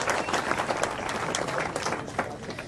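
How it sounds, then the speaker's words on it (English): Audience applause for the New South Wales government at an outdoor finals-day event, a steady wash of many hands clapping that holds at an even level throughout with no voices standing out. "Another round of applause for the New South Wales government."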